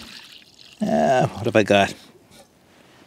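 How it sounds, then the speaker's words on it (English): Water pours into a 1.4 liter pot outdoors in the woods in a brief, close splashing burst of about a second, then trickles off. Someone speaks briefly over the start of it. "What I'm going to do is put a little bit of water in,"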